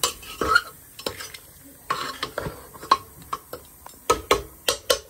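Onions frying in a pan while being stirred: a quiet sizzle beneath repeated sharp scrapes and clicks of a utensil against the metal, coming in irregular quick bursts, close up with no talking.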